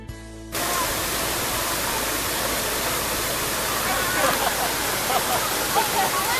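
A river rushes beside a mountain trail on Mount Tambora, a loud, continuous broadband roar of flowing water that starts abruptly and holds steady throughout.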